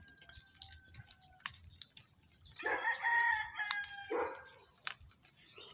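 A rooster crows loudly nearby in a long drawn-out call, followed by a shorter second crow, with faint clucks and outdoor noise around it.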